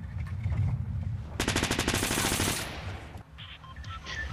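Rapid automatic gunfire in the video game Fortnite: one loud burst of about a dozen evenly spaced shots lasting roughly a second, followed by fainter game sounds.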